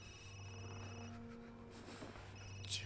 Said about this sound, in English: Another phone ringing.